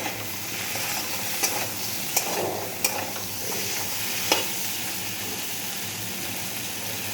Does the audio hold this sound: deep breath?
no